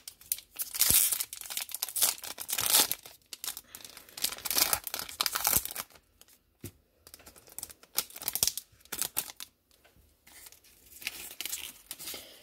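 2020 Mosaic football blaster trading card packs are torn open by hand at close range, with bursts of crinkling foil and ripping wrapper between quieter pauses.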